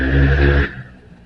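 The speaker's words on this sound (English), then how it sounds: "yahoos riding their dirt bike in the neighborhood" A dirt bike engine revs and roars loudly for a moment, then cuts off abruptly and fades into quieter background noise in a neighborhood.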